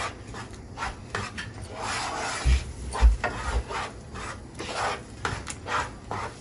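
A spoon scrapes and stirs scrambled eggs in a pan, giving soft rasping strokes with a few duller knocks against the pan, close and quiet, with no voices.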